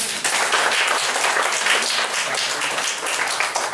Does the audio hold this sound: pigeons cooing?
no